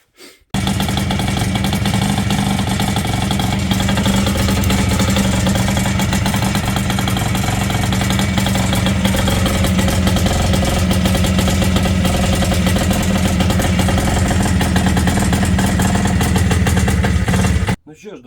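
A restored Minsk 125 motorcycle engine starts with a sudden burst and then runs steadily and loudly at a rough idle for about seventeen seconds before cutting off.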